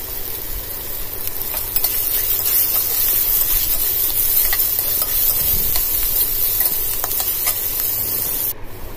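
Chopped onion and tomato frying in a pan with crushed cloves for a chicken fry, giving a steady, loud broadband sizzle and hiss that runs throughout with faint stirring scrapes, and no voices.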